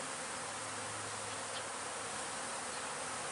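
Honey bees buzz steadily around an open hive as frames are inspected for a laying queen, a dense, even insect drone filling the whole stretch without pause and without voices.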